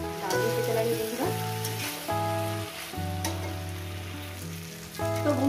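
Okra and poppy seed curry sizzles steadily in the pan, a soft continuous frying hiss running under prominent background music throughout.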